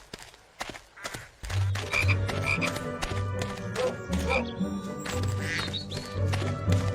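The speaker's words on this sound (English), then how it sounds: "You'd have to knock the frog out before you can catch it." A chocolate frog croaks in the Harry Potter and the Chamber of Secrets PS2 game, giving repeated low croaks under a busy bed of game music and ambience.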